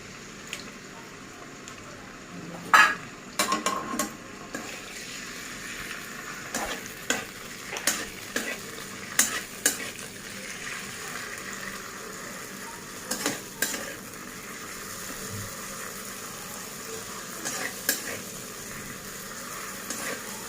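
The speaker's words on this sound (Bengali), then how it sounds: "সেই জন্য আমি চিংড়ি মাছগুলো ভেজে নিচ্ছি" Prawns frying in hot oil in a wok for a cauliflower and prawn dish, a low steady sizzle broken by repeated sharp scrapes and clatters of a utensil stirring against the pan.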